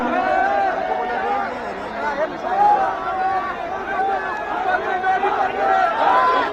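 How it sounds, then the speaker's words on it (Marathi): Large dense crowd at the Maratha reservation hunger strike event, a continuous loud babble of many voices and chatter close around, steady throughout with a few louder swells. "या ठिकाणी गर्दी खूप आहे"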